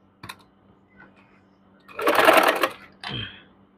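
A domestic sewing machine joins a puff sleeve to a garment in a short burst of rapid stitching, fairly close and clear. A few faint taps and clicks come before it and a brief softer run follows.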